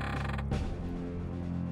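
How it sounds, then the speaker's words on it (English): In Zelda: Wind Waker, a door opens with a short mechanical creak and rumble, followed by a brief thud and a low fading resonance, alone and fairly soft. "let's open the door"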